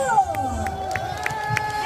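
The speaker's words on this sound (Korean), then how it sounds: "박수 한 번 더 부탁드릴게요. 박수!" An outdoor festival crowd at a stadium cheers and claps after a girl group's first stage, with scattered whoops and sharp claps over crowd noise, and voices heard in the mix.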